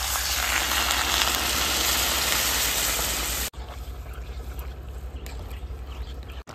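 An egg and mixed-vegetable curry hisses loudly in the pan as water goes in, a dense broadband sizzle that cuts off abruptly partway through and gives way to a quieter, steadier bubbling.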